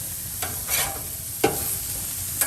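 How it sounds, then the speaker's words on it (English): Hamburger patties sear on a hot surface with a constant sizzling hiss, while three sharp scraping strokes land as the burgers are flipped, close and without talking. "Now we're just flipping the burgers, and you can see that they turn brown in color because of the searing."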